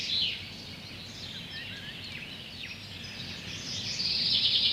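A song thrush sings in a forest, its varied clear phrases repeating over a steady background hiss, moderately near with other birdsong faintly around it.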